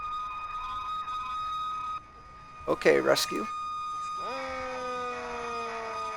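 Emergency vehicle sirens from the firefighting and rescue video game Emergency 4, a steady electronic wail holding under the game audio, broken by a short burst of speech before the sirens return with shifting tones.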